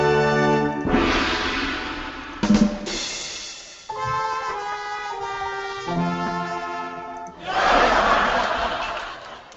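A Google Hangout trumpet sound effect plays a run of bright, brassy held notes, bracketed by bursts of crowd noise and laughter before and after.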